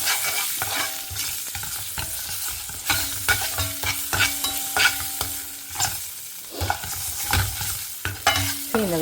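Mustard seeds, urad dal, green chillies, asafoetida and curry leaves sizzle and crackle in hot oil for a South Indian tempering, with steady frying and occasional popping and stirring, close and without speech.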